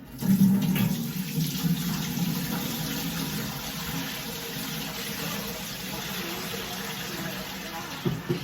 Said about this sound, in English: this is the drawer of the dehumidifier, and you'll hear the water